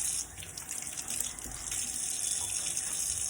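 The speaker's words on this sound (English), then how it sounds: "Now I'm gonna clean these a little bit better, but I'm just rinsing everything off." Tap water runs steadily into a sink while parts of an Omega MM900HDS juicer are rinsed after juicing celery, a continuous close hiss and splash with no talking.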